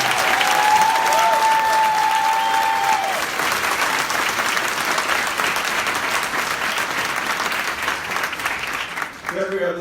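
A large audience applauds Bill Rogers, the SunTrust chief executive, at an OnUp Tour event, with sustained dense clapping and crowd noise filling the whole stretch, plus a brief tonal sound near the start.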